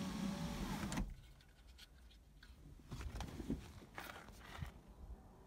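An electric sunroof in a Mk3 VW runs, a brief motor whir at the start followed by faint clicks and handling noises.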